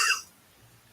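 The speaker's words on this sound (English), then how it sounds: "You're supposed to cough like this." A single short cough, close and abrupt, fading quickly into quiet.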